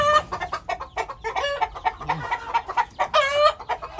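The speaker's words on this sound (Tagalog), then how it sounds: "Isa sa natitira kong hybrid na manok." Several hybrid chickens cluck and cackle close by in busy, overlapping bursts, with no talking.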